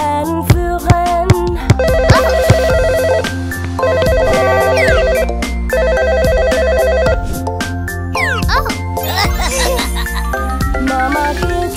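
A telephone rings in a children's song, bright electronic ringtone bursts repeating in three even bursts over a busy musical backing, loud and close.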